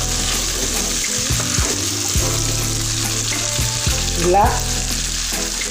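Jamaican rice with beans and sliced chorizo sizzles in a pan as it is mixed and stirred. A constant frying hiss carries repeated utensil knocks and scrapes, with a brief spoken word.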